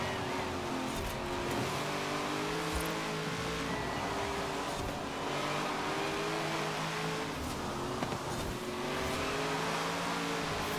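A Chevrolet Camaro ZL1 in the racing video game Forza Horizon 4 drones loudly and continuously, its engine note rising and falling through revs as it drives.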